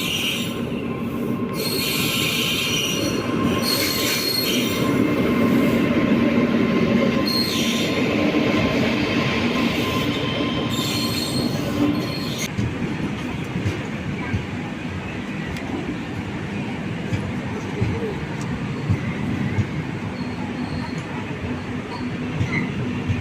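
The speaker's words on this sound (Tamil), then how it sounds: "இப்போ ஒரு ட்ரெயின் போச்சு பார்த்தீங்களா, ஹிமாச்சல் எக்ஸ்பிரஸ்." Himachal Express passenger train running past on the rails in India, a loud continuous rumble of wheels with squealing and clattering bursts, close and sustained, fading somewhat toward the end.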